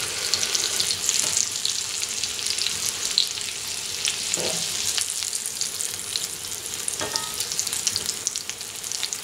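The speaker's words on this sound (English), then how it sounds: "Down into the grease, Mr. Terrell." Packrat meat frying in hot grease, a close, steady crackling sizzle with dense popping spatter, running continuously with no voices for about nine seconds.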